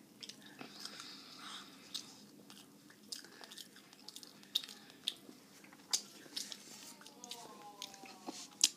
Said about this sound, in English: So many crunches. It's disturbing.